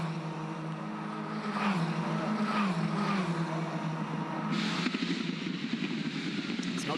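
Formula 4 race cars on a wet Gold Coast street circuit give a steady, loud engine drone with rising and falling pitch sweeps as they pass. There is no talk.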